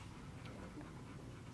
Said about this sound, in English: This is Bugsy, a pit bull.